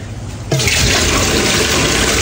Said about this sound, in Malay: Air ni untuk merebus tulang